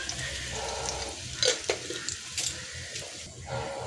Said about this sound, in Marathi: तर इथे आपलं तेल तापलेलं आहे. तर आपल्याला 5-6 लसणाच्या पाकळ्या चेचून टाकायच्यात आणि थोडेसे कढीपत्ते